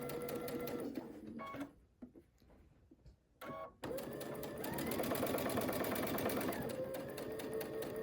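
A sewing machine stitches quilt fabric in a steady rapid mechanical run, pauses briefly with a short burst between, then resumes for a longer sustained run while backstitching, close and loud.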